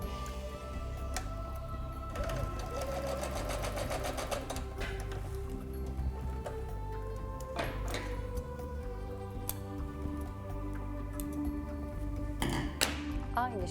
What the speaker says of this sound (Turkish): şurada düz bir makine çekiyorum